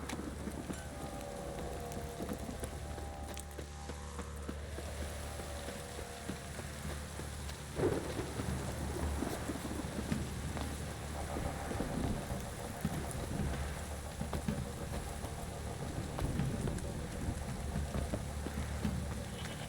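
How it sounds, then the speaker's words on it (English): Heavy rain pours steadily in The Witcher 3, a dense wash of downpour with a low rumbling bed beneath, constant and enveloping throughout. "This downpour's a bastard, it is."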